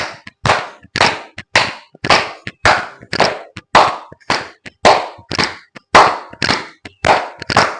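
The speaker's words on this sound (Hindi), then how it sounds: "कोशिश कीजिए कि 108 बार ताली बजा सकें" Loud hand claps during a yoga exercise for dyspepsia, roughly fifteen sharp claps repeating in a steady, even rhythm, close-up with nothing else underneath.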